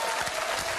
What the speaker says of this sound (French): On peut applaudir très fort les équipes techniques du Burger Quiz et de Canal